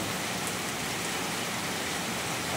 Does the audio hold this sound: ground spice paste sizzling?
no